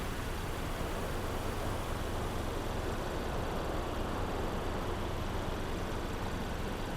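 Calm sea breeze and waves along a coastal road in the DRIVECLUB racing game make a steady, even wash of broadband noise, soft and unbroken, with no voices.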